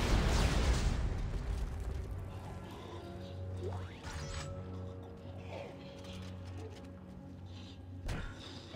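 An explosion booms in the video game Dead Space 3, a loud opening blast that decays into rumbling debris and mechanical rattles, with a couple of smaller crashes and pops following over a low hum.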